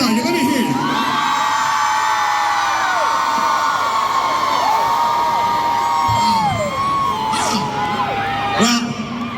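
Women in a concert crowd cheer and scream loudly, high overlapping whoops and wavering shrieks rising and falling across the audience, with a few sharper bursts near the end.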